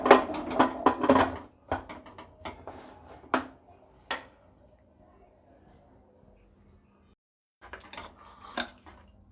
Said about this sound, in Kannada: ಇವಾಗ ಕುಕ್ಕರ್ನ ಕ್ಲೋಸ್ ಮಾಡ್ಕೊತಾ ಇದ್ದೀನಿ